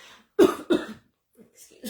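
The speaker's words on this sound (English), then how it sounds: "Except when you're coughing." Two sharp, close coughs in quick succession, followed by quiet breathy sounds.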